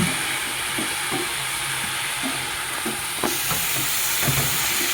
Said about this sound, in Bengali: পটল আলু ভাজা।